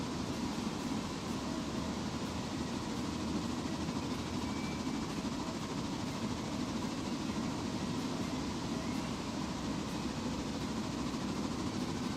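A steady, fairly quiet rumbling drone of a train running in a modded railroad logging game, unbroken and even, with no voices over it.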